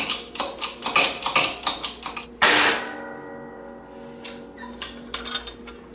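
A metal sheet is cut out with a pancake die: a run of light, even taps gives way to one loud, close metallic strike that rings and fades, followed by a few quieter taps.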